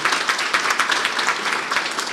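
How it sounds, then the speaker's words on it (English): An audience gives a round of applause, with dense, continuous clapping at moderate volume throughout and no talking. "Round of applause for you guys."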